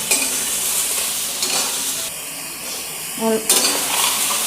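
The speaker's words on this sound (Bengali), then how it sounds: "এখন নেড়ে দিচ্ছি ভালো করে নেড়ে দেবো" Turmeric masala being stirred in a pan for hilsa fish curry, giving a loud sizzle broken by scraping spoon strokes and a brief clink of the pan.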